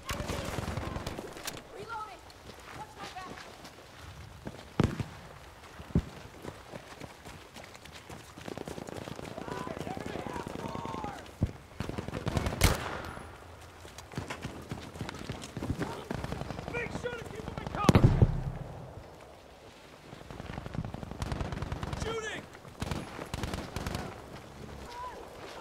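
Gunfire during a Battlefield 5 Conquest match: scattered sharp shots and bursts crack out over roughly twenty-five seconds, some near and loud, others more distant, with voices calling out between them.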